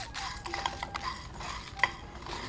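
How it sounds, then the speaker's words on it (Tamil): Chana dal, coriander seeds, urad dal and green chillies are dry roasted in a pan without oil, making soft rustling scrapes and light clinks of a spoon against the pan, close and fairly quiet. "இது எண்ணெய் விடாமல் வறுக்கணும்."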